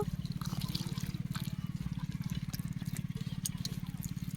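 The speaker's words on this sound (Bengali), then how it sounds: "হাত দিয়ে হাত দিয়ে বেলটাকে ভালো করে মেখে নেব জলের সঙ্গে" Ripe bael fruit pulp is kneaded by hand with a little water, making a steady, rapid rhythm of wet squelching and sloshing, close and moderately loud throughout.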